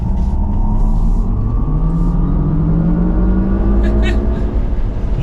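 A 2022 GMC Hummer EV Edition 1 crew cab electric truck with 1,000 horsepower accelerates while merging into traffic, its electric drive whine rising steadily in pitch over road and cabin noise as a voice speaks.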